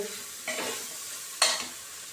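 Chopped ridge gourd goes into a pan on low heat for rice khichdi, with two short stirring scrapes over a faint sizzle and no talk.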